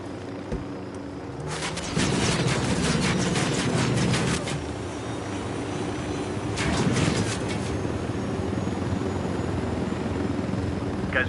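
In Ghost Recon Wildlands, a helicopter gives a continuous loud rotor drone, with bursts of rapid chopping blade thumps rising over it twice, close and without speech.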